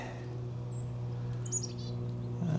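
Several small songbirds, including dark-eyed juncos, yellow-rumped warblers, a wren and a chickadee, chirping and twittering in short high bursts over a steady low hum.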